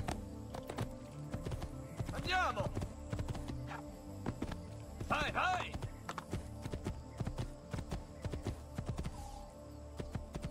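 In the video game Assassin's Creed 2, a horse's hooves clip-clop in a steady walking rhythm, with brief whinnies and someone talking over the sound.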